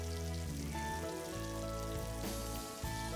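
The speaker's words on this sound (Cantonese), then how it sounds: "我哋就可以放入豬扒落去炸㗎啦。" Breaded pork chop frying in hot oil, a steady dense crackling sizzle that fills the whole stretch at a constant loud level with no voices.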